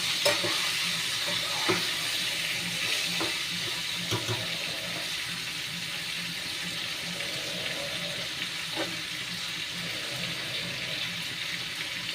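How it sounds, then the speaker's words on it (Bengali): Eggplant pieces fry in hot oil in a pan for a fish, potato and eggplant curry, giving a steady close sizzling hiss with a few sharp pops and clicks throughout. "আমি এবার বেগুনগুলোকে ছেড়ে দিলাম।"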